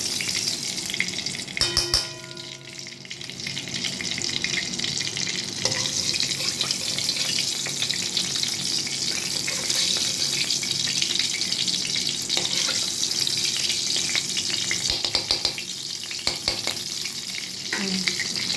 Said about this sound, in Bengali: এবার আমি এই যে বেগুনগুলো ভাজবো